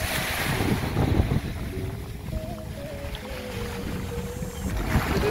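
Steady wash of sea waves and gusting wind on a bright beach in Dominica, with wind buffeting the microphone throughout and a faint tonal hum drifting in the background.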